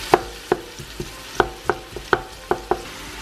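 Onions and garlic frying in olive oil in a saucepan are stirred with a utensil, giving sharp, irregular scraping knocks against the pan over a faint sizzle, close and alone.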